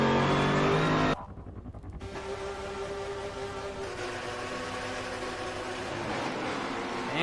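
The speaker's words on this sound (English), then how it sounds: "the cars are approaching the start-finish line, the green flag is waving" GT4 race cars roar at the start of a video game race at Silverstone. A loud engine drone cuts out briefly, then a dense, sustained multi-car engine roar with rising revs and tire noise builds again, with no talking.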